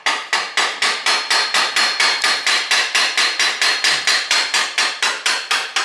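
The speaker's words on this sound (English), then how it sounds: "I'm going to use a wooden mallet, and I'm going to tap the tool" A wooden mallet striking a bottom bracket removal tool fitted to a seized bicycle fixed cup, about twenty-five sharp, loud knocks in a steady, fast rhythm, each ringing briefly before the next blow, with no talk.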